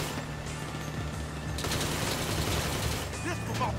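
Rapid automatic gunfire in GTA Online during a chaotic vehicle fight, bursts rattling continuously and loudly over engine and game noise, growing denser partway through.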